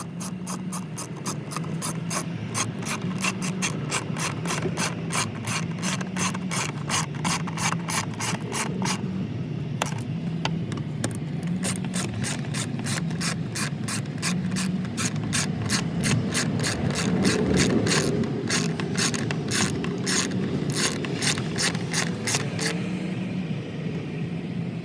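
A hand ratchet tightens the air filter housing on a 2013-2016 Dodge Dart engine, clicking in long, fast, even runs with brief pauses between strokes, close and alone.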